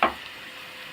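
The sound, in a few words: garlic and dried coriander frying for molokhia tasha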